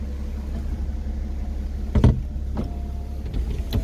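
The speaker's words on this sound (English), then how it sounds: "we'll see the roof coming up in the back" The power convertible roof of a 2016 BMW 435d M Sport xDrive (F33) closing, a steady electric motor hum with a firm clunk midway and a fainter mechanical knock later, close and with no talking.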